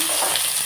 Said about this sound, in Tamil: வெங்காயம் நல்லா வதங்கிக்குவோம்.